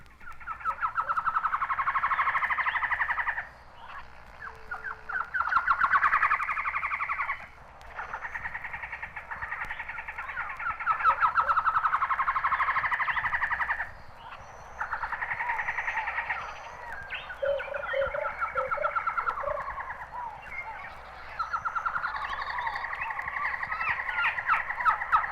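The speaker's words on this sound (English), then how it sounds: "A group of citrulline trogons give their chattering calls in an open woods of Oaxaca." Several citreoline trogons chatter in repeated bursts in open Oaxacan woods, loud and close, with brief pauses between bouts, while an Inca dove and Mexican motmot call faintly in the background.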